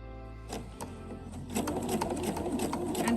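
A sewing machine starts up and whirs steadily while top stitching bias tape with a longer stitch, close by, after brief handling noises.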